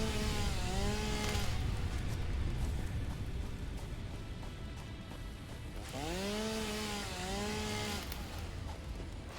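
A video game chainsaw revving and cutting through a massive tree, a loud steady engine drone with two rising-and-falling rev sweeps, alone without talking.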